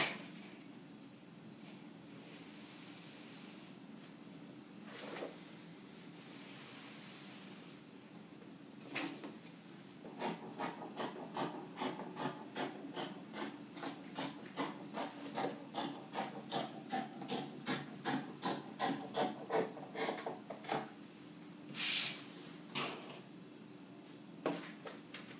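Scissors cut dress fabric along a pattern for a six-piece gown, a quick run of crisp, evenly spaced snips up close, quiet and unaccompanied, after some soft rustling handling of the cloth.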